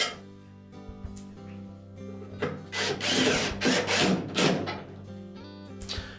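Screws are driven into plastic on the blower housing of a Whirlpool dryer, giving several short bursts of power-driver whirring and grinding at close range, with quieter gaps between them and no talking.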